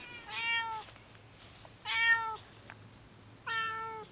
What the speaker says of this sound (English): Okay, so my cat is still crying.